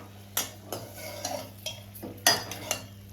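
A spoon stirs broad bean curry with tamarind and jaggery in a cooking pot on the stove, giving several distinct scraping clinks against the metal over a steady low hum.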